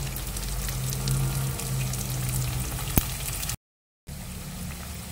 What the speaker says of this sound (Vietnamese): Rồi mình chiên khi nào nó vàng mình vớt nó ra.